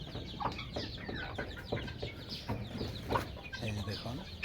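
Chinese partridges and hens clucking and squawking nonstop inside a coop, a dense, close chorus of overlapping calls.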